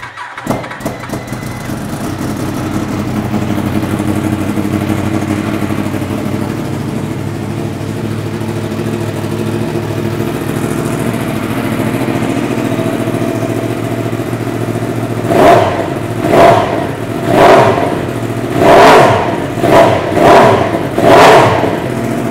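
Yamaha R1-M sport motorcycle, first a long steady low engine drone, then a run of six or seven sharp throttle blips rising and falling in quick succession, loud and close.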